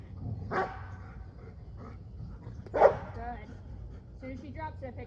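A dog gives a few sharp barks, separated by short pauses, close by with low background noise, during a fetch and 'drop' training session.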